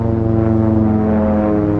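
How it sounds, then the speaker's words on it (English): An OV-10 Bronco turboprop aircraft flies past with a steady, loud propeller and engine drone that holds an even pitch throughout, with no voices. "This small turboprop aircraft is slower, but more maneuverable than jets, faster and more versatile than helicopters."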